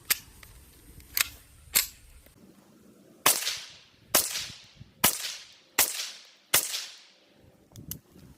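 Sharp, snappy .22LR shots from a Charger 22 pistol with a 10-inch barrel, about five evenly spaced cracks with a brief decay after each, following a few faint clicks, fairly near.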